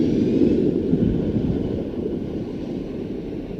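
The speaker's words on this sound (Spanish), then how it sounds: "en ese momento aterrizó el avión." A radio sound effect of an airplane landing: a loud, broad engine roar and rushing wind that gradually fades and settles, heard alone without speech.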